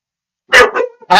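A dog barks nearby, loud and sharp, two quick barks followed by a third after a short pause, in an otherwise silent room.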